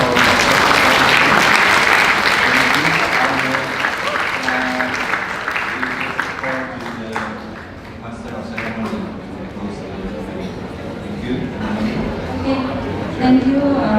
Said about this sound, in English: give an applause again for the last time